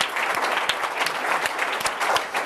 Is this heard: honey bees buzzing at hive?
no